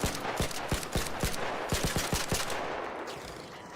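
Rapid bursts of video-game gunfire, a fast run of sharp repeated shots over dense battle noise that thins out toward the end.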